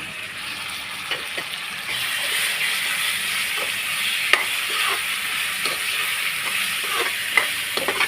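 Boiled mutton stirred into golden fried onions in a hot pan, a steady close sizzle with hiss and occasional soft scraping taps of a spoon, no talk.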